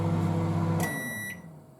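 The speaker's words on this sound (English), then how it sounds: "That's the beep at the end." Microwave oven finishing its cooking cycle: the low running hum cuts off and a single high electronic beep sounds, close and clear, followed by quiet.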